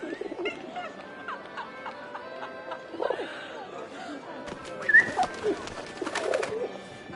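Pigeon cooing in a game set in wartime Paris, a few soft coos and bird calls scattered over a quiet ambient background with faint music tones.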